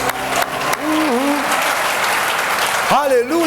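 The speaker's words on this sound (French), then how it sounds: "les gars du ciel, acclamons pour nous-mêmes" Church congregation clapping and cheering loudly throughout, a broad steady wash of applause with voices calling out over it, near and full.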